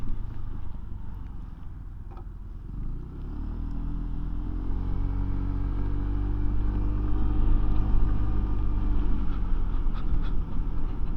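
A 2025 Voge SR16 125 scooter cruising on a dual carriageway, a steady engine and road rumble that swells slightly midway as traffic noise and wind blend in, continuous with no talking.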